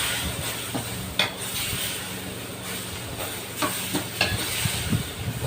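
Crocodile meat stir-fried with holy basil in a pan for a hot, spicy dish, with a loud continuous sizzle and hiss close by, broken by repeated scraping stirs.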